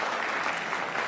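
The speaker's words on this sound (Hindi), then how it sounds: "भरपूर तालियां यार असद के लिए।" Applause at an Urdu poetry mushaira in Dunyapur: a dense, steady clapping from a seated audience, loud and close, with no voices over it.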